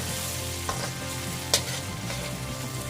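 Purple onion frying in a pan for a mixed seafood dish, producing a steady close sizzle with a couple of sharp utensil clicks, no one talking.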